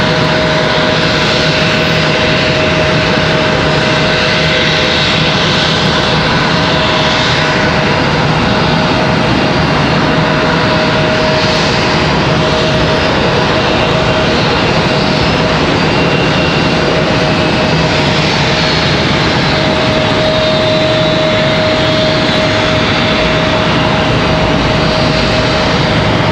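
An aircraft arrives at Charlotte Douglas airport, its engines producing a loud, sustained roar with a steady tonal whine, swelling slightly in waves over a long stretch without speech.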